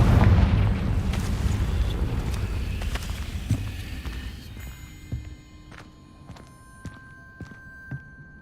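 Confringo fire-blast spell in Hogwarts Legacy bursts with a heavy, rumbling boom that rolls and fades over several seconds, followed by scattered sharp clicks and footsteps.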